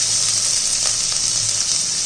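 Finely chopped onion, one medium bulb, sizzling and frying steadily in hot oil in a pan alongside fennel seeds, a loud continuous hiss with faint stirring, no voices.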